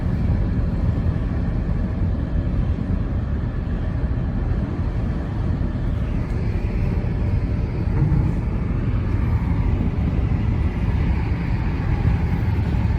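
A Mercedes-Benz B180 coasts along off the throttle, giving a steady low road and tyre rumble from inside the cabin with no engine revving and no talk.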